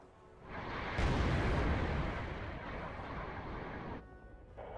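A missile salvo strikes tanks in the war strategy game Wargame: Red Dragon, a single broad rumbling blast that swells over about a second and then rolls on with a sustained roar, ending abruptly, with no voices.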